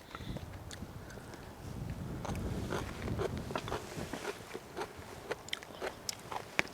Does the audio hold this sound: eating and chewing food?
yes